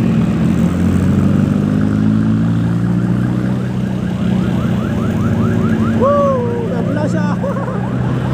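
A wailing ambulance siren sweeps up and down over steady traffic rumble, growing more prominent toward the end.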